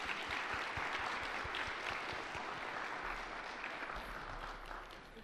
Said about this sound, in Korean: 우리 찬양대도 참 수고를 많이 했는데 격려의 박수 한번 부탁드립니다